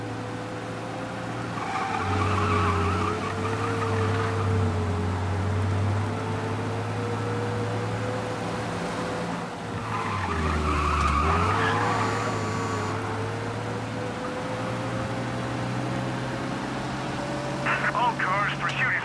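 A car engine in Mafia: Definitive Edition drones at speed during a police pursuit for a long stretch, pitch rising and falling, with tire skids and faint beeps near the end.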